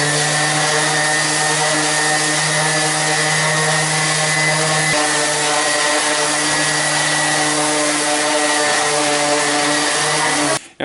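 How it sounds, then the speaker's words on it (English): Steady, loud electric hum and whir of a Delta Rockwell Model 1460 lathe running while a wooden board is sanded, a constant tonal drone with a slight shift midway before cutting off at the end. "let's go ahead and give it a little bit of sanding"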